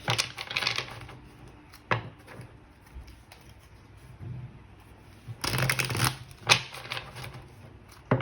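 Oracle cards are shuffled nearby in quiet, crisp riffling bursts, with a longer flurry at the start, a few isolated taps and flicks in the middle, and another shuffle toward the end.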